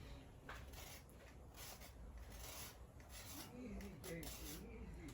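Whole nutmeg being grated for a mulling spice blend, giving a steady close-up rasping scrape that runs continuously, with a few brief scuffs partway through and no talking.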